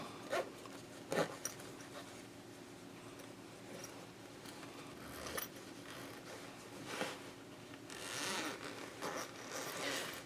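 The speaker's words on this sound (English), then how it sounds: "Now I'm going to reach in and open that zipper all the way." A zipper on a handmade sewn boxy bag, a Dopp or makeup bag, is pulled open in several short ragged zips close by, separated by quiet pauses and faint handling noise.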